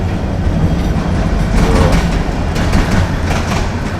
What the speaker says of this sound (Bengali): এই যে ট্রেন চলে আসছে